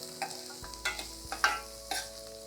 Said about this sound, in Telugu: వెల్లుల్లి వేగింది. స్ప్రింగ్ ఆనియన్స్ కూడా వేసేద్దాము. ఇవి కొంచెం వేపుకోవాలి అంతే మనం.